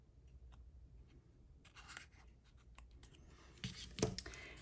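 Scissors trim a paper cutout for a scrapbook page, giving quiet, close snips and rustling paper scrapes in short irregular bursts, with a sharper cut near the end.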